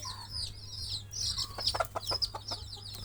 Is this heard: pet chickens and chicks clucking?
yes